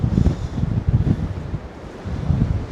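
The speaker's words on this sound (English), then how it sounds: "Wow, look at those waves off down there." Wind buffets the microphone on the coast at Doolin, Ireland, with ocean waves breaking below, heard as a loud, gusty low rumble that surges and fades in uneven pulses.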